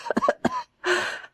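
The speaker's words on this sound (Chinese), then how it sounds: "郑太后激烈的咳嗽了起来。" An elderly empress dowager coughs violently in a dramatized palace scene, a rapid cluster of harsh close coughs followed by a longer rasping wheeze after a brief pause.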